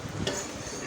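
Chicken pieces frying with tomato paste on a tawa, a brief, dense sizzle with one scrape of a stirring utensil, close and steady.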